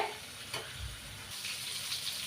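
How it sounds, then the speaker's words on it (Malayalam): Fried fish sits in a hot pan, giving off a faint, steady sizzle and hiss with a few soft low bumps, heard alone. "അപ്പം നമ്മുടെ മീൻ ഫ്രൈ റെഡിയായി"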